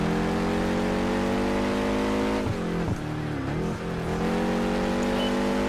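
Race car engine in Project Gotham Racing 4 during a top-speed challenge, a loud steady high-revving drone with stacked harmonics that dips briefly as the revs shift, then climbs back, with no talking.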